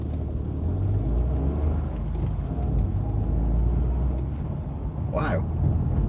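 A car passes on a town-centre road at night, heard from inside a moving vehicle as a steady engine and road rumble, with a brief whoosh as it goes by near the end.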